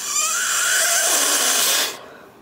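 A close, breathy blast of air blown onto clay stuck in a small cutout cutter, a steady hiss lasting nearly two seconds before cutting off abruptly.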